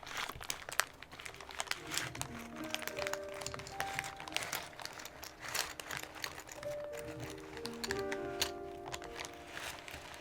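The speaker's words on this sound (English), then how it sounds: "we get some good plastic crinkles happening, brand new, extra crispy ones" Brand-new Lego plastic bags are handled, their crisp crinkling and rustling running continuously for about ten seconds, close and fairly loud, with sharp snapping crackles throughout.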